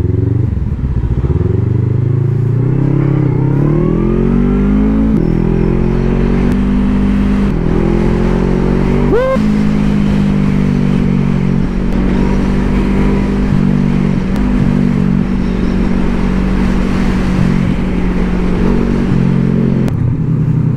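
A 525-engine big bike riding along, its engine loud and close throughout with a steady droning note that rises as it accelerates and revs, then holds at a higher pitch.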